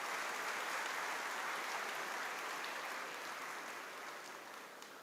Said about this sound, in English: Give a big applause to these children.